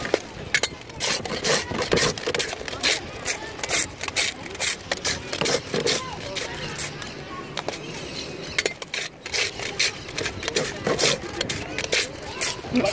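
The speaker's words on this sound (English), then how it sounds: "They scrape the ice" Rhythmic scraping of a block of ice to make raspados shaved ice, repeated rasping strokes in steady succession, close and fairly loud, with voices in the background.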